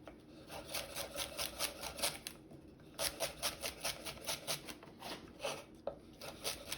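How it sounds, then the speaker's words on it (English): A kitchen knife dices celery on a cutting board in quick rhythmic bursts of sharp close chops, with short pauses between runs; no talking. "we're going to do the celery in a similar fashion by first cutting down into strips."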